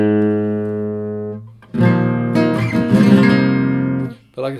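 A sustained note rings from a 7/8-size Brazilian flamenco guitar of the 1950s or 60s, with rich overtones, decaying slowly before a brighter strummed chord swells and fades, alone with no voices.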